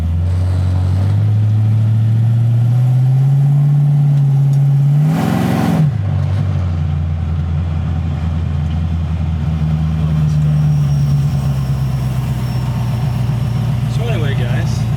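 A 1940 Ford's engine pulls hard while driving, its drone climbing steadily in pitch, with a brief burst of noise midway and a continuous in-cabin engine note throughout.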